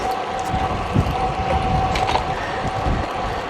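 Steady broadband wind buffeting the microphone on a Ribble Endurance SL e electric road bike ridden through the Eden Valley on a windy day, a continuous rushing roar with a faint whine and no talking.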